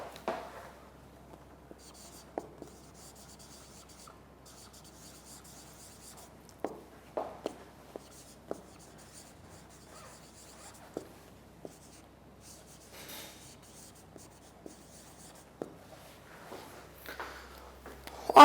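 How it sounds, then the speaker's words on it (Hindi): Faint, sparse strokes of writing on a board, with scattered taps and scratches spread across a quiet room, occasional soft vocal sounds in the background. "मैं इधर लिख भी देता हूं।"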